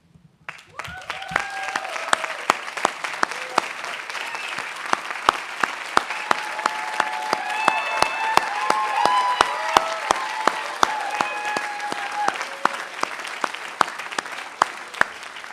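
An audience at a graduation class day applauds standing honor society inductees, starting abruptly and building into sustained clapping with some crowd murmur and a few voices underneath.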